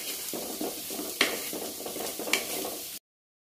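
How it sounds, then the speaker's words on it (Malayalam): Chili powder and spices stir-fried in oil for a Kerala-style prawn roast, a soft steady sizzle with repeated scraping strokes of a spoon against the pan and two sharper clinks, no talking. "ഇതെല്ലാം പൊടികളുടെ എല്ലാം പച്ചമണം മാറുന്നിടം വരെ ഇത് വഴറ്റി കൊടുക്കണം"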